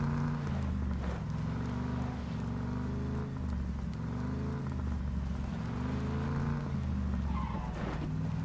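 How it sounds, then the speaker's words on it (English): Vehicle driving in the PUBG battle royale game: a continuous low engine drone with shifting rumble and some road or tire noise, steady and fairly loud throughout, with no talking over it. "I'm just driving around right now"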